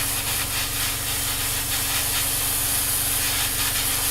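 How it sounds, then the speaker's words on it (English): An airbrush at high air pressure sprays white paint onto a Tamiya 1/48 F-16 Falcon model kit, making a steady, close, unbroken hiss with no talking. "by keeping your air pressure nice and high, it covers in one, because as we know, spraying white can be somewhat of a pain"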